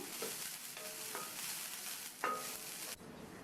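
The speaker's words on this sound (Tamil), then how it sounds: "இதில் 1/2 கப் தேங்காய் துருவலை சேர்த்து அதனுடைய ஈரப்பதம் போய் அதனுடைய கலர் லைட்டாக சேஞ்ச் ஆகிற வரைக்கும் எண்ணெயிலேயே வதக்கிக்கணும்" Half a cup of grated coconut sautéing in oil, a dense hissing sizzle with a few light spatula scrapes, close and steady, cutting off abruptly near the end.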